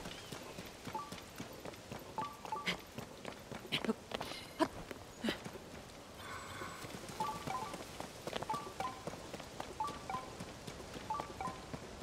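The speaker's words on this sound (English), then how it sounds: "And of course, it started raining" Rain falls in the video game Zelda: Tears of the Kingdom, a soft steady patter under repeated footstep-like clopping and brief game chimes, with no talk.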